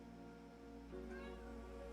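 A pet cat named Mr. Ash meows close by, drawn-out tonal cries over soft room hum, with a person's voice faintly in the background.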